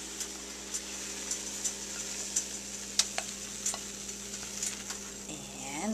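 Scrambled eggs scraped from a skillet onto a plate, with soft scrapes and light taps recurring under a faint sizzle and a steady background hum.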